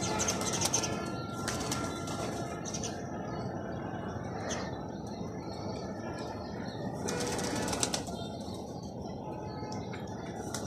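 Pigeons flap their wings in a few bursts, with soft cooing and a steady noisy background throughout.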